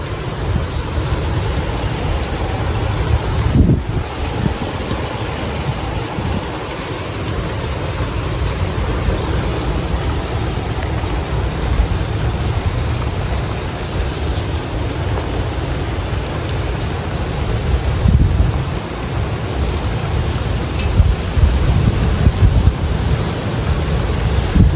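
Heavy rain pours down in a winter storm, wind and surf-like roar steady and loud throughout, a dense continuous wash with occasional gusty swells and no voices.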